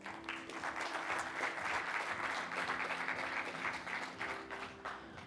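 Audience applauding award winners at an entrepreneurship and innovation prize ceremony, a steady wash of many hands clapping at moderate level for about five seconds, with a faint tonal hum underneath.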